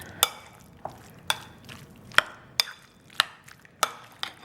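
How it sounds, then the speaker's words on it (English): Chunky guacamole with hand-shredded cilantro and lime is mixed in a bowl, giving a quiet series of about eight evenly spaced sharp taps and scrapes against soft, near-silent pauses. "And then I just mix that all in"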